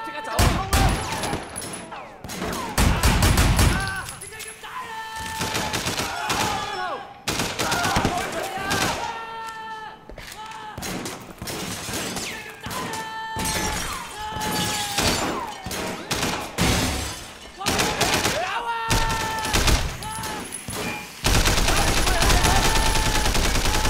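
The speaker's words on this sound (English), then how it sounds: "That's some interesting blind fire." Blind fire from guns in the video game Sleeping Dogs, repeated loud bursts of rapid shots in clusters over a long stretch, close and sharp, with tonal game sounds between volleys.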